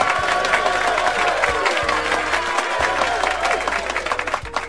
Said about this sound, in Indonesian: Semangat pagi, pagi ya, tepuk tangan untuk kita semua.